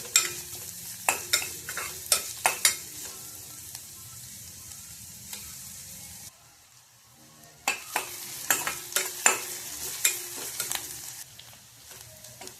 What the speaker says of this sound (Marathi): मसाला परतून झालेला आहे थोडं, आणि आपण त्यामध्ये कांदा घालून येणार आहोत.